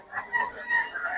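A rooster crows on a farm, a strained, slightly distant call over a second long that rises and falls in two or three swells.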